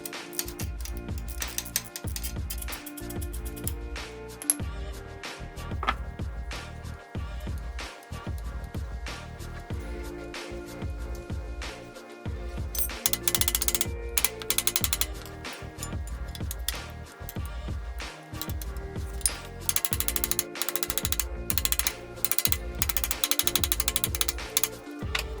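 A hand ratchet clicks in quick bursts while bolts are tightened onto an engine adapter plate for a 1JZ to BMW M3 ZF transmission swap, with short pauses between runs of metallic ticking.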